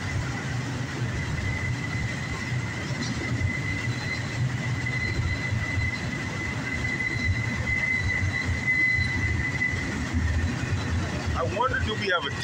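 A long CSX intermodal double-stack freight train rolls steadily past close by in Dayton, a constant heavy rumble of wheels and cars with a thin metallic squeal ringing above it.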